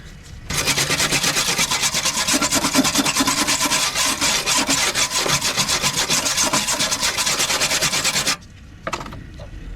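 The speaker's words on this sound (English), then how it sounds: "So I'm just putting these spot welds in there now" Spot welds go in joining a Vauxhall Senator floor to the chassis leg, heard as one loud, continuous crackling buzz lasting about eight seconds before it stops abruptly, followed by a few faint clicks.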